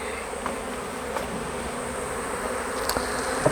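Honey bees buzz steadily around an opened beehive, a dense, continuous drone filling the air with a few louder passes of individual bees close by.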